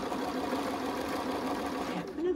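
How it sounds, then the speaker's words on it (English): A sewing machine runs steadily as it stitches quilt seams for a Friendship Star quilt, a close, continuous mechanical whir that slows and shifts pitch at the end. "my sewing machine always puts a heavy weight on the presser foot"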